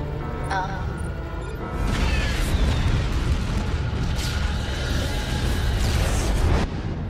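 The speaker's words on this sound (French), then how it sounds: "Détonation d'une arme à neutron." A neutron weapon detonates in an animated sci-fi film, starting with electronic beeps and tones and then a deep, sustained rumbling blast with sweeping whooshes that fills several seconds before cutting off.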